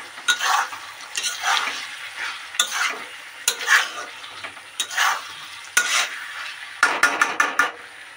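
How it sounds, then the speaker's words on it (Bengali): Food frying in a pan on low gas is uncovered and stirred, making repeated scraping, clinking strokes over a constant close sizzle, with a quick flurry of scrapes near the end and no speech. "এবার ঢাকাটা খুলে আমি একবার নেড়ে দেবো।"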